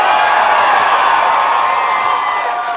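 A dense crowd at a Bernie Sanders rally in Fort Worth cheers and shouts loudly and steadily, a continuous roar with scattered whoops and no pauses.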